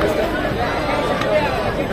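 Dense, steady crowd babble from a large throng at the Lalbaugcha Raja Ganpati procession in Mumbai, a close, continuous hubbub of many voices without clear words.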